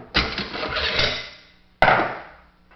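AK-47 bolt carrier slid rearward and popped out of its notches during a field strip: a sharp, close knock with a long rattling decay, then a second crisp clack after a short pause.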